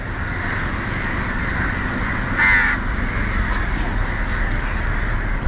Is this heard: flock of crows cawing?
yes